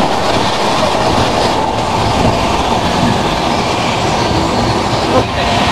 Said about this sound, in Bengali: তো ট্রেন কিন্তু চলছে বেশ ভালো স্পিডে।